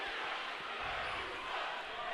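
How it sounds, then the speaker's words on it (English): Basketball crowd in a high school gym, Tampa Catholic versus Jesuit, reacting with a sustained murmur of displeasure to a foul call, a broad steady wash of many voices throughout. "Crowd obviously not happy about that foul again"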